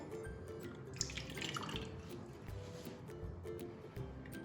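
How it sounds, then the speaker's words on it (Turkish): Lukewarm water pouring into a wide bowl, a steady trickling and dripping stream at close range that continues throughout with no voices. "Öncelikle geniş bir kaseye bir su bardağı ılık su"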